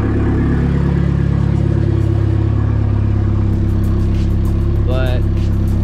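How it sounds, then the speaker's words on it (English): Turbocharged Hyundai Genesis Coupe R-spec with full bolt-ons, a loud steady engine drone heard from inside the cabin while driving, with a brief rising turbo whistle near the end. "Turbo spool."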